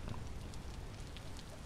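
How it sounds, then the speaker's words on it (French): Steady soft rain falls in the video game Vintage Story, a faint even hiss with scattered drop patters and no voices. "Il pleut, il y a du brouillard, on voit pas très loin."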